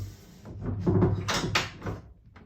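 On a Pearson Ensign sailboat, a cabin door with a new latch is pushed shut, giving a couple of close wooden knocks and a brief click, fairly quiet in an otherwise still space.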